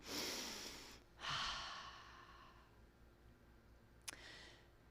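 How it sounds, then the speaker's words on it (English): Slow breaths drawn in a quiet hall during a guided meditation at a church service, two long soft inhale-exhale swells close to the microphone, then near silence broken by one small click and a faint breath. "And now breathe."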